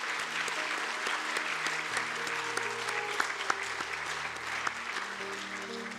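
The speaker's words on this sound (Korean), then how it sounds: "우리 이분들을 위해서 다시 한 번 더 박수하겠습니다." Sustained applause from a church congregation indoors at a Sunday evening service, steady and fairly loud, with an organ or keyboard chord held underneath.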